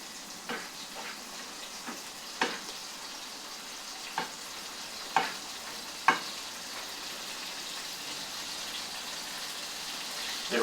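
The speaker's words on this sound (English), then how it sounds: "There we can hear it starting to boil in the cast iron pan" Mixed vegetables with mushrooms, green peppers, yellow squash, zucchini, broccoli and red onion cooking in a cast iron pan, a steady soft bubbling sizzle broken by about half a dozen sharp clinks and stirs, close and without voices.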